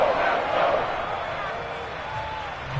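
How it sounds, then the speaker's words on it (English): Stadium crowd at an American football game roars ahead of a big third down, a broad, steady swell of voices and shouting that eases slightly toward the end. "The crowd getting into it as we come up on a big 3rd down."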